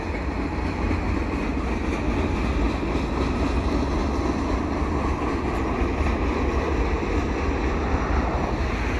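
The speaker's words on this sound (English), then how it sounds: "a single SD42 heading a train in 2020" A heavy freight train led by a single SD42 diesel locomotive rumbles steadily past, a deep continuous low roar with rolling noise and some wind buffeting, loud and close throughout.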